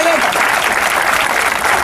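Dense, steady clapping from a street comedy show audience fills the whole stretch, loud and continuous without letting up.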